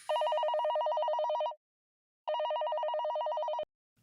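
A telephone rings loudly and close by in two long electronic trills separated by a short silence.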